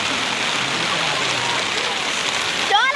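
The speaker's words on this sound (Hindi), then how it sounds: "बारिश लग पड़ी गंदे वाली" Heavy rain pounds a tarpaulin overhead at a crowded fair, a dense, continuous patter close by, with a brief voice breaking in near the end.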